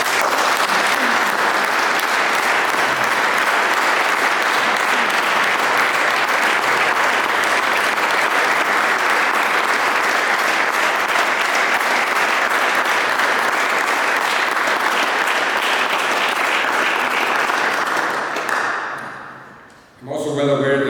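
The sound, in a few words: audience applause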